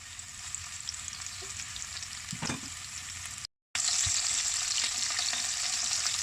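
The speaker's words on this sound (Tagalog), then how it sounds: "Fry lang siya until mag-golden brown." Enoki mushrooms frying in oil in a pan, a continuous crisp sizzle with the scrape of a utensil stirring and turning them, a brief cut of silence midway, then louder hissing resumes.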